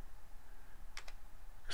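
Typing on a computer keyboard, heard as a few faint, close key clicks: a quick pair near the middle and another tap at the end, over a quiet room hum.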